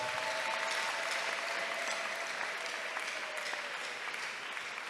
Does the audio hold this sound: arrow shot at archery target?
no